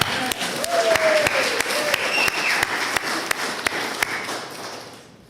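Senators and onlookers in a legislative chamber clap in a lively burst that fades over a few seconds, with sharp regular knocks cutting through and faint voices mixed in.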